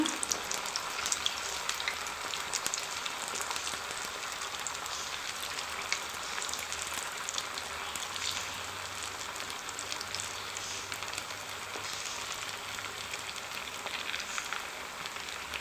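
Cauliflower pieces coated in cornstarch deep-fry in oil with a dense, steady crackling sizzle, even and continuous, like heavy rain, with no one talking.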